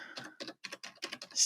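Quick bursts of keystrokes on a computer keyboard, close and fairly quiet, come in an uneven rhythm of about six short clusters, with no talking.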